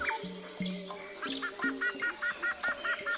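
Birds sing and chirp nearby, with a quick repeated run of bright chirps over other scattered calls and a low hooting note.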